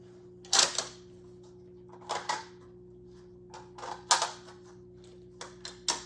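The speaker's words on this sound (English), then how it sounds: "Pop the mag in the gun, take the mag out of the gun, pop the mag back in the gun, rack your bolt" A firearm magazine inserted, pulled out and reinserted before the bolt is racked, a sequence of sharp metallic clicks and clacks in small bursts with quiet pauses between, close by in a quiet room.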